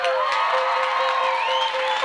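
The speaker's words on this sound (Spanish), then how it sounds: "el pueblo de aquí, que se dio un aplauso bien grande" A crowd at a live salsa concert in Vega Baja and Manatí cheers and applauds in a steady, loud wash, with whoops and shrill whistle-like tones rising above it.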